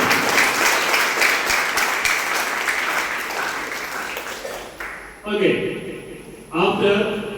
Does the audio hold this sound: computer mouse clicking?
no